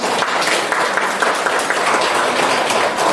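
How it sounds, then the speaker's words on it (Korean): An audience of parents at a career and college guidance training session in Daegu's Buk-gu district breaks into steady, full applause, a continuous clatter of many hands at even loudness throughout. "박수 부탁드리겠습니다."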